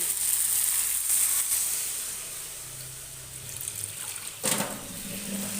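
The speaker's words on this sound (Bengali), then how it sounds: "এই মশলা ধোয়া বাতির জলটা এখানে অ্যাড করে দেবো" Water from washing spices poured into a pan of sizzling rohu fish curry with vegetables: steady loud frying hiss throughout, with a brief splash and louder sizzle toward the end.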